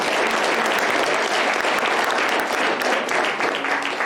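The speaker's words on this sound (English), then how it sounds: "Let's give them a round of applause." Audience applause at a spelling bee, steady and full across the whole stretch, a dense crowd of hands clapping loudly and close without a break.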